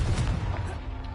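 A Confringo blasting spell bursts in a wizard video game, a short booming blast with a heavy low thump and a crackling tail that decays quickly.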